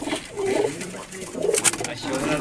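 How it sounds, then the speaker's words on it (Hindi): Pigeons coo softly and repeatedly close at hand, low burbling calls over quiet background noise. "ये दूसरा कबूतर है"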